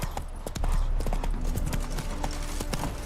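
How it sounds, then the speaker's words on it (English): Roach, the horse in The Witcher 3, gallops with loud, rapid clip-clop hooves in a steady rhythm, with a brief whinny-like sound mixed in. "Not so fast, Roach."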